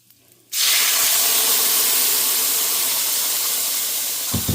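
Ground ginger, garlic and chili paste poured into hot oil for a salmon fish pickle bursts into a loud, dense sizzle that starts abruptly and holds steady, fading only slightly over several seconds.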